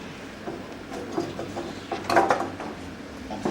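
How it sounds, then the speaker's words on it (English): A Meccano model winch mechanism runs at a guild meeting, giving a close, busy clatter of gears and ratcheting clicks with a brief louder burst midway. "Bolt down so the winch can pull the sides up."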